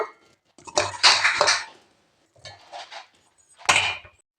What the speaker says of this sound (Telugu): ఇంకా వేయించుకున్న ఐటమ్స్ అన్నీ మిక్సీ జార్లోకి వేస్తున్నాను